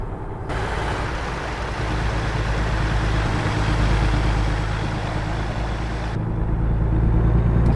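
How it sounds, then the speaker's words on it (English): A 600-horsepower Kenworth truck engine in American Truck Simulator drones as it pulls uphill, a loud, steady low rumble that builds slightly, with a brief hiss at the start and end. "I've got a 600 horsepower engine, plenty of torque in this engine, in this"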